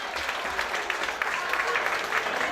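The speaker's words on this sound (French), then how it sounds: "Une bonne main d'applaudissement pour eux autres, s'il vous plaît." An audience gives sustained applause at a community gathering, a dense, even wash of clapping at moderate loudness with faint voices mixed underneath.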